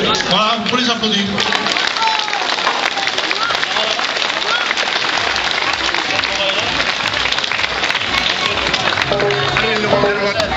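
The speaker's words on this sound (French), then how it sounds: "vous pouvez les applaudir" Dense, continuous applause from a crowd at a Basque strength-sports show during the 2012 Urrugne village festival, with voices and shouts mixed in throughout.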